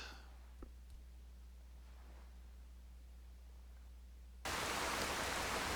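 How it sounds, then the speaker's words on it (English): Rain starts suddenly partway through in the video game Skyrim, a loud, steady broadband hiss that jumps in after several seconds of near-silent ambience and holds evenly to the end. "Oh, it's raining."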